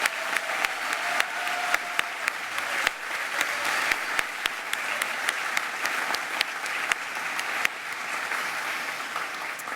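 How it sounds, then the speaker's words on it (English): Crowd applause at a school graduation ceremony, a dense steady patter of many hands clapping throughout, moderately distant and filling the hall without voices. "So a big round of applause for those folks"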